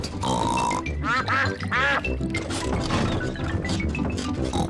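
Cartoonish duck quacks from the Peppa Pig cartoon ring out in quick succession, mixed with other voices and busy background sounds.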